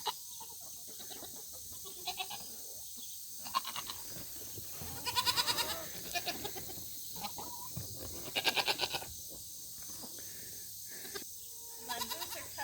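Goats bleat in several wavering bursts, with quiet farmyard background and a few soft chicken clucks between the calls.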